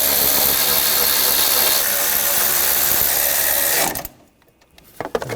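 Power tool tightening starter bolts on a 2014-2020 Nissan Rogue 2.5L four-cylinder, a loud continuous buzzing whir for about four seconds that cuts off abruptly, followed by faint clinks.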